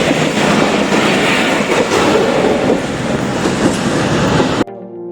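A Pakistan Railway train rumbles loudly and steadily past a manned level crossing, wheels clattering continuously for several seconds before the sound cuts off abruptly near the end.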